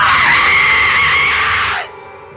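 A woman in a horror film lets out a loud, sustained high scream that holds steady for nearly two seconds and then breaks off abruptly, with no other voices.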